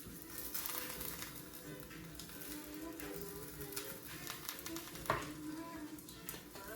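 Spoonfuls of black beans sizzling in a hot pan while being stirred, a steady soft crackle with occasional scraping clinks, close and quiet with no talking.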